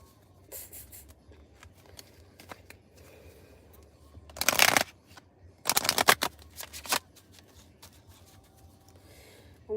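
Two short bursts of oracle cards being shuffled by hand, close and fairly loud, separated by quieter handling rustle, with no one speaking.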